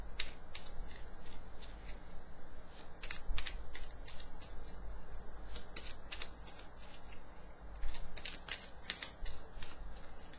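Cards are shuffled repeatedly, with crisp riffling bursts and soft flicks in an uneven rhythm, close and clear with no talking.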